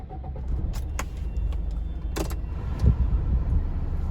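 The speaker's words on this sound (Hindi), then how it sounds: "एक बार गाड़ी स्टार्ट करके दिखाता हूँ कि आपको इंटीरियर में इंजन की कितनी नॉइज" A 2016 Maruti Suzuki Swift Dzire with about 64,000 km, heard from inside the cabin: a low steady engine idle hum beneath a few sharp clicks and knocks of handling inside the car.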